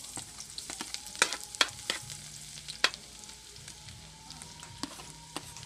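Garlic dropped into hot oil and frying, a soft steady sizzle punctuated by sharp spatter pops and a few stirring knocks, close and moderately quiet.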